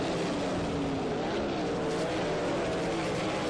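360 sprint cars race on a dirt track in a dense, unbroken roar of engines, loud and steady throughout the short stretch.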